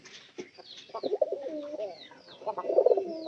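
Pigeon cooing in a loft kept for pairing birds, a series of soft, throaty rolling coos close by, with faint higher bird calls around.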